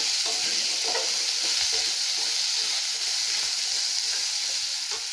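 Curry leaves and yellow pumpkin sizzle in a hot pan while being stirred, a loud, close, steady hiss of frying broken by light scraping and crackling taps, with no voices.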